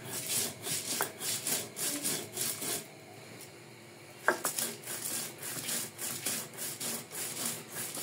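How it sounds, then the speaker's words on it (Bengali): Fried spices are ground into a paste on a stone slab with a rubbing stone, making steady rhythmic scraping strokes close by, with a short pause in the middle and a few clacks of stone on stone. "সেই ভেজে রাখা মশলাটা আমি পাটায় নিয়ে নিয়েছি, পেস্ট করে নেব।"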